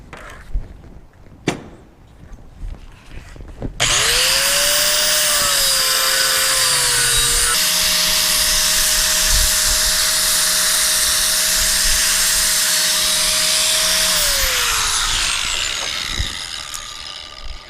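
Grinder with a small 36 grit disc cutting during work on a 1967 Chevelle, a loud, steady high whine that starts abruptly after a few soft knocks, holds for about ten seconds, then spins down.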